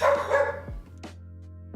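A dog barks a couple of times nearby indoors, a short harsh burst followed by quieter yips against a low steady hum.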